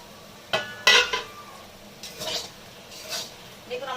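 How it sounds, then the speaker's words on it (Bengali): A metal lid is lifted off a pot of Bengali greens (dhemni shak) frying over a low gas flame, giving two sharp clanks close by, followed by softer clinks and faint background noise. "তো আমি এবার ঢাকনাটা খুলে দেখবো।"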